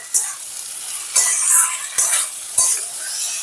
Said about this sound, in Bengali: মশলাটা দিয়ে একটু 5 মিনিট কষিয়ে নেব।